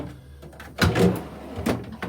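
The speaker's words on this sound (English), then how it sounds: "got nice sliding out drawers for the crispers" New Fisher Paykel fridge crisper drawers slide out in two short rumbling pulls, close and fairly loud, with no talking.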